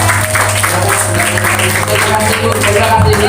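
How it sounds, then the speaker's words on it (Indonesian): An audience claps for the parents at a grade 6 motivational school event at SDN Bhayangkara Yogyakarta, a loud, steady wash of applause lasting the whole stretch with a low hum underneath. "Ya, baik kita beri tepuk tangan dulu buat Bapak Ibu."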